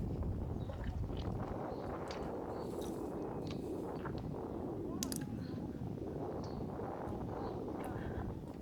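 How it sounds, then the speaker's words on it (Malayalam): Wind rumbles and buffets steadily against the microphone on the Jeddah Corniche shoreline while fishing, a low constant roar, with faint voices now and then underneath. "അത്യാവശ്യം നല്ല കാറ്റുണ്ട് ഇന്ന്"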